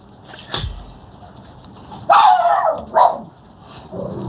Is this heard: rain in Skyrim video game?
no